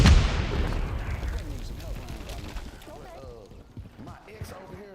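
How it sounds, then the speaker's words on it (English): A Semtex sticky grenade detonates in Call of Duty Modern Warfare 3. A loud, close boom opens and then rolls away into a fading rumble, with voices coming in as it dies down. "Throwing Semtex!"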